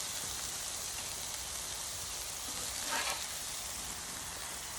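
Smashburger patties sizzling on a flat-top griddle: a constant, hissing fry close to the microphone, with a brief louder crackle near the end and no talk.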